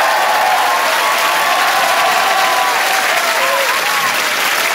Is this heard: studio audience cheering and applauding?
yes